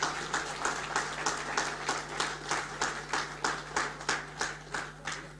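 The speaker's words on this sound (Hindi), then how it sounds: "एक बार हम सब लोग उनका जोरदार तालियों से स्वागत करें" An audience at a youth gathering in Indore claps in welcome, a loud, close run of rhythmic synchronized claps repeating about three times per second with a steady hum beneath.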